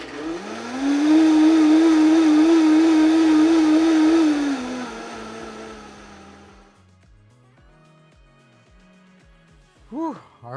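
An electric blender whirs loudly through a reduced coconut milk sauce, its motor holding a steady pitch for a few seconds before winding down, followed by a quieter pause and a brief voice at the end.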